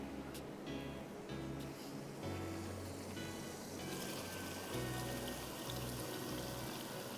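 Water poured into a pan of tomatoes during home cooking, a low, rough sloshing and trickling wash that continues unevenly for several seconds, with no voices.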